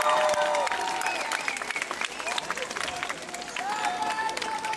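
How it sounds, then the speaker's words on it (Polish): A festival audience applauds loudly, a dense wash of clapping with scattered cheers and crowd noise that holds steady throughout. "I myślę, że należą mu się wielkie brawa."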